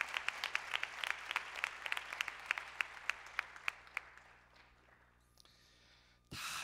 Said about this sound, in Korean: 인사하고 들어가실 때 다시 좀 큰 박수로 좀 보내드리십시오.